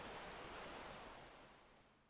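Ocean waves sound effect: a steady, broad rushing surf wash that fades gradually toward the end, with no voices present.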